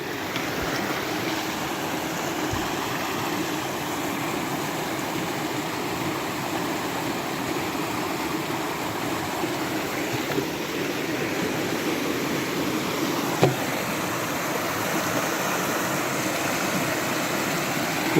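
Snowmelt mountain stream on a foggy hiking trail, a steady broadband rush of flowing water holding even throughout, with no speech.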